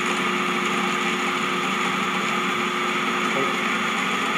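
Electric motor running at about 823 RPM on a converter test bench, a constant loud mechanical whine with steady tonal hum, unchanging and alone.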